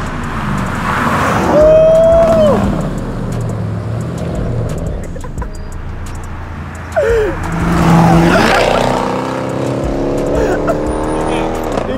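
A Dodge Charger R/T all-wheel drive and a Challenger R/T launch in a Mexico street race, engines revving hard and tires squealing as the cars pass in two loud surges, with spectators talking and cheering throughout.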